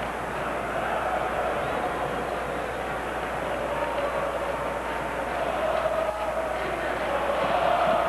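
Schalke 04 home crowd at a 2003 Bundesliga football match against Energie Cottbus, a steady, dense roar of stadium noise that swells slightly toward the end, with no distinct words.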